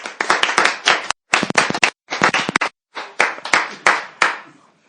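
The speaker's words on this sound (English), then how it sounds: "I think he deserves a round of applause" A few pairs of hands clap in short, sharp bursts at an awards ceremony honouring a volunteer, with distinct close-up claps broken by brief silences, as if from a small group.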